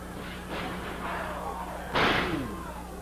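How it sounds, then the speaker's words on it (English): A wrestler slams shoulder first into the ring turnbuckles at a 1980 Memphis wrestling match, one sharp heavy thud rising out of steady crowd noise and arena murmur. "slammed into the turnbuckles, his shoulder leading the way"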